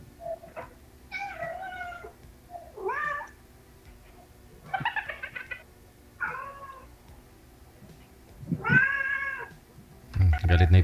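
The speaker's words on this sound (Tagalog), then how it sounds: "Galit na yung pusa." An angry cat lets out a series of drawn-out, complaining meows at irregular intervals, moderately close, with quiet gaps between them and a louder burst near the end.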